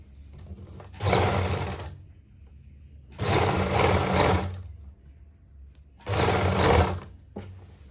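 An electric sewing machine stitches a lined suit in three loud, close bursts of a second or so each, separated by pauses, with a low hum in between.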